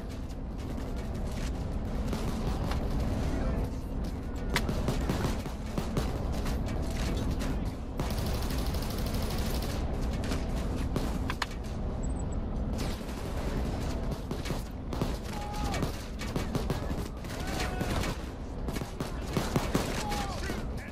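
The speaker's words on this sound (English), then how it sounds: "Why are you shooting me for?" Sustained gunfire from a PayDay 2 heist shootout rattles almost nonstop, with dense bursts and heavier blasts packed together, while players talk over the chaos.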